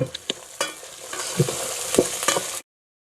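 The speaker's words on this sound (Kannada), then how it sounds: "ಕರ್ಬೇವು ಸೊಪ್ಪು ಹಾಕ್ತಾ ಇದ್ದೀನಿ" Curry leaves hit hot oil in a frying pan with an immediate sizzle, crackling and spitting in sharp bursts while being stirred, close and clear, before cutting off abruptly.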